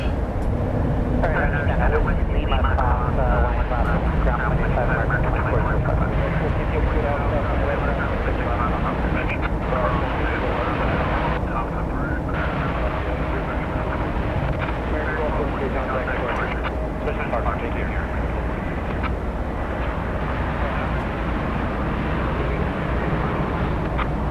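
An airliner in special livery, nicknamed the Queen, takes off at night from DFW Airport, its engine roar broad and steady throughout, with people talking over it.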